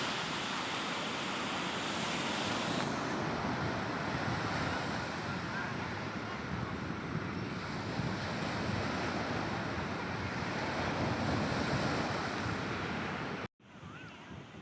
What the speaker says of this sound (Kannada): ನಿಮಗೆ ಅಲೆಗಳ ಸದ್ದು ಇಷ್ಟ ಆದರೆ ಮುಂದೆ ಇರೋ ಕ್ಲಿಪ್ಪಿಂಗ್ಸ್ನ ನೋಡಿ